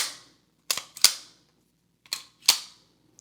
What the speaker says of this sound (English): Another thing I wanted to point out is how smooth the slide is.